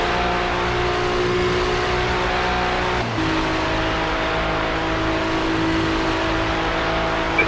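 A Porsche race car in iRacing at the Daytona 24-hour race drones at steady high revs, a loud continuous in-car engine tone with a brief shift-like dip midway before holding again.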